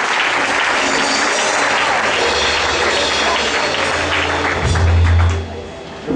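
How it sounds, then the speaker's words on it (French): Church congregation clapping at a Pentecost service, a broad steady wash of applause with a low hum underneath, swelling louder toward the end before dropping off. "Donc je voudrais que vous l'acclamez pour cela."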